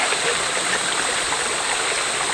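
Water runs out of a beaver pond at a hunting camp as a steady, full rushing flow, close and loud, continuous throughout with no voices over it.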